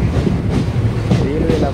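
An Indian Railways local train runs past, a brief loud rumble with clattering wheels on the track, close and steady, with a faint voice underneath.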